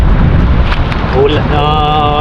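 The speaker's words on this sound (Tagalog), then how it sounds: "Lumalakas po yung ulan." Loud rain pours steadily with wind buffeting the microphone, and a brief tonal whine rises near the end.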